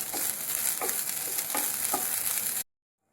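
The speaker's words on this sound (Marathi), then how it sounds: "आता हे मी ओलं खोबरं घालते त्याच्यामध्ये आणि अजून मी 3-4 मिनिटं परतून घेणार आहे." Onion and grated fresh coconut being sautéed in a pan over medium heat, a steady close sizzle with a few scraping stir strokes, no talking, stopping abruptly near the end.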